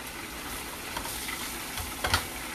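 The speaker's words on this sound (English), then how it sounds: "this is basically sauteing or pan searing the green beans" Green beans sauté in a hot pan, giving a steady soft sizzle and crackle throughout, fairly faint, with a brief clatter near the end as they are stirred.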